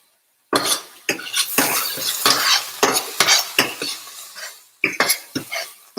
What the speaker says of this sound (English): So this saute is never ready until it's brown.